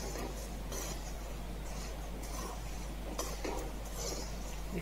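Puffed rice (lai) roasting in a pan for spicy namkeen, stirred continuously with steady scraping and light clinking over a constant low hum, fairly faint and without voices.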